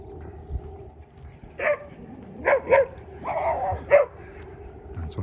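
Several dogs in a city alley bark and yip in short clustered bursts, fairly close, with a whimpering edge, over quiet outdoor background.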